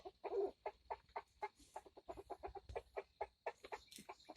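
Chickens cluck in a quick, irregular series of short calls, fairly faint and close, with brief pauses between bursts.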